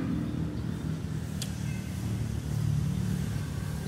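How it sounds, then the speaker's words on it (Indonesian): A Honda grass-cutting machine engine idles nearby in a steady low rumble that holds for a few seconds, with no talk over it. "Ini mesin potong rumput merek Honda."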